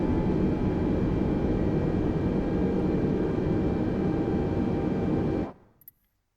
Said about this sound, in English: 70 knots, cancelling the reverse and manual braking to bring the aircraft to a stop.